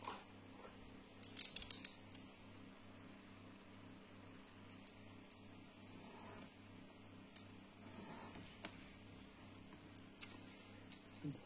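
A utility knife blade, worn and due for changing, scoring paper on a cutting mat for a bookmark craft, with a few short scraping cuts near the start and fainter strokes later over a quiet room.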